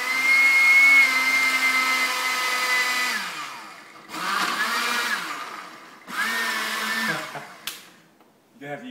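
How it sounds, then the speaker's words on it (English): An electric blender making a smoothie whirs loudly for about three seconds, then runs in two more bursts with pitch dips as the blades bog down, ending with a few brief clicks and rattles. "So I'll use a different blender."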